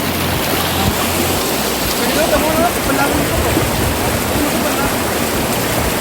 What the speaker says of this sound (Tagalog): Guys, nandito na tayo sa ilog.